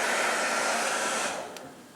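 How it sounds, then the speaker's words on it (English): A blow dryer roars steadily at close range while drying glue on a hair weave track, the airflow easing slightly near the end, with no talking. "Take your blow dryer,"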